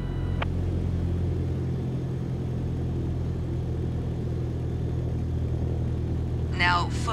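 A Cessna 152 engine idles in Microsoft Flight Simulator 2024, a steady low rumbling drone that continues throughout with short chirping sounds near the end.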